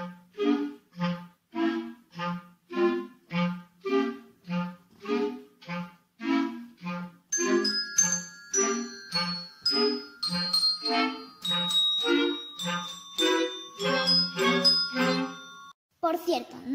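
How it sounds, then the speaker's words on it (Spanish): Colored hand bells ring out the Nutcracker melody in a conservatory, played in place of a celesta, with clear repeated struck tones in a steady rhythm that grow into layered, sustained chiming. "tocan la melodía con unas campanas de colores muy chulas"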